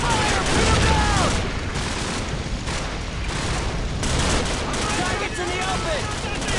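Sustained gunfire in Call of Duty Modern Warfare, with dense automatic bursts and loud booming shots running continuously throughout, close and intense.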